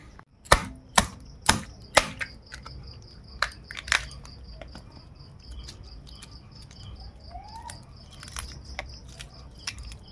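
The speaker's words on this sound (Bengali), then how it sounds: "কাঁকড়ার খোলা ছড়ানো হচ্ছে।" Crab shells being cracked and broken open by hand for cooking in a Bengali village, several sharp close cracks early on, then scattered lighter snaps over a steady background of insect chirring.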